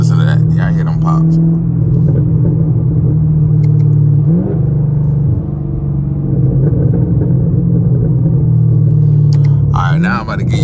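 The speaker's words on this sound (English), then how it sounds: "when you shift it up at them high RPMs right before red line, that thing go pop" Straight-piped sixth-generation Chevrolet Camaro SS V8 with an 8- or 10-speed automatic, heard from inside the car: a loud, steady exhaust drone rises through revs, then short pops and crackles come on upshifts near redline.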